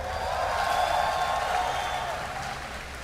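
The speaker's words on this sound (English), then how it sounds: "If you are a fan of mTw.Dimaga, give him a cheer" Crowd at BlizzCon 2011 cheering for a StarCraft II player during a Zerg versus Terran match, a sustained broad wash of applause and cheers across the whole stretch, loud and steady before easing slightly.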